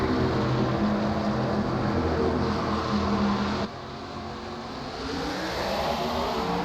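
Late model race cars at Nashville pull away on a restart, a loud sustained roar of several engines with a brief dip before the pitch climbs again as the field accelerates.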